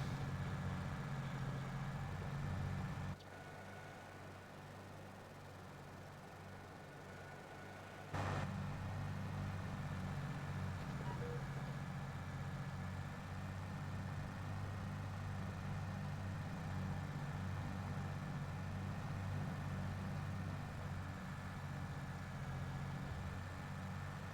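A tractor engine in Farming Simulator 22 works through oat seeding, a low, steady idling drone that runs continuously with a brief dip in level early on, heard alone at a quiet volume.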